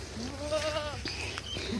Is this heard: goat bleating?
yes